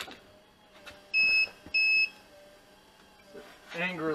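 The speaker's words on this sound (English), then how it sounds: "So it angrily beeps at me." A 3D printer gives two sharp, loud electronic beeps in quick succession after being plugged in, with quiet room sound around them and a voice starting just after.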